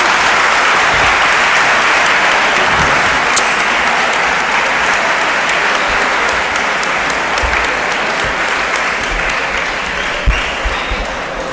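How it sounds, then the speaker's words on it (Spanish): Sustained, dense applause from a large audience at a human rights conference, steady and loud for about eleven seconds with no voices over it. "un aplauso grande para él"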